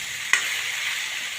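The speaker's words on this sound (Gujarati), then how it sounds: "ભીંડા સરસ મજાના તેલના અંદર શેકાઈ રહ્યા છે" Okra frying in oil in a pan, an even hiss of sizzling with one short clack of a utensil near the start and no talk.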